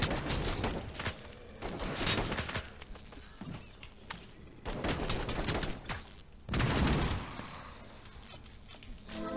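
Shotgun blasts fire in bursts in the game Dead Cide Club, with several loud, sharp volleys close by, short gaps between them, and a heavy boom near the end.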